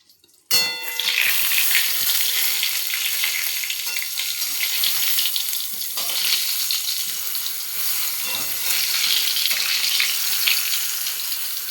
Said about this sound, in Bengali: এই যে ভাতটা ফ্যান গড়ানো হয়, ফ্যান গড়াবো।